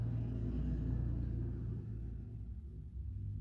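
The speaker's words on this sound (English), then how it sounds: "Traffic, cars, never fails." Car traffic passing outside produces a low, steady rumble that slowly fades, heard faintly from indoors with no voices.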